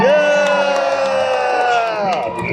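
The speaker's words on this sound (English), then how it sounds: "I said scream!" A theme park crowd at Hollywood Studios screams and cheers on cue, a loud, sustained roar of many voices with whoops and a long shout, easing slightly toward the end.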